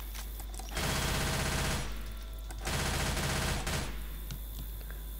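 Rapid automatic gunfire in the video game Left 4 Dead 2, two long sustained bursts separated by a short pause, loud and close with a mechanical rattling rhythm.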